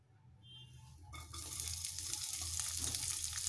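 Two tablespoons of oil heat in a pan for mirchi ka salan, starting quiet and then bursting into a loud, close, steady sizzle that carries on to the end.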